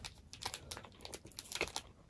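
Scissors cutting open a food package of extremely spicy dandan noodles, giving quiet, close crinkling and snipping plastic sounds in irregular bursts with no talk.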